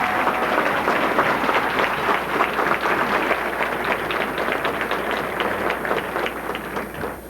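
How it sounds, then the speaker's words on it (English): Sustained applause from an audience greets the debutantes at a debutante ball, dense steady clapping that fills the room at a constant loud level and tapers slightly toward the end, with no speech over it. "Please give them all a round of applause as they look so gorgeous this evening."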